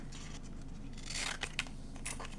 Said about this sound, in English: Then I'm going to take a pair of scissors